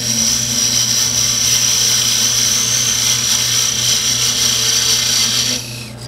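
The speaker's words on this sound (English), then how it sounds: "we'll use a parting tool here to separate it from the waste material" A wood lathe spins a turned toothpick dispenser blank while a parting tool cuts it free from the waste, giving a loud, steady whining hum with a high ringing tone that runs continuously for about five and a half seconds, then drops off.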